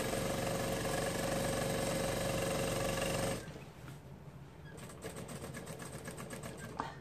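A sewing machine runs steadily while stitching the side seam of a raglan-sleeve jumper, then stops abruptly and is followed by quieter stop-start bursts of stitching.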